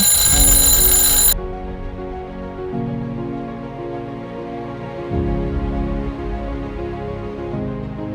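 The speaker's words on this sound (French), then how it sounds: "Le réveil sonna et marquait 7 heures." An alarm clock rings loudly and alone, a bright electronic tone for just over a second, after which a low sustained musical drone carries on.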